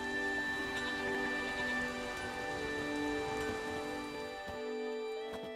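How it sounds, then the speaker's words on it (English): Steady rain falls in The Witcher 3 video game, a soft continuous patter of drops heard under a low sustained hum of game ambience, with no talking. "There's no point standing here in the rain"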